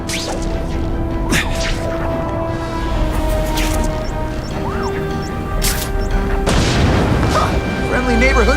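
Fireworks explode in The Amazing Spider-Man 2 video game as a steady run of loud booms and crackling bursts over continuous game sound and tonal music, with a heavier blast near the end.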